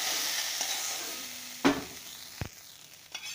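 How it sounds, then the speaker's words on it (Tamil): Grated coconut roasts in a pan for garlic chutney under a steady low sizzle, with a few sharp scrapes and knocks of a spoon against the pan, close by, no talking. "கடைசியாக தேங்காயை போட்டு வறுத்துடலாம்."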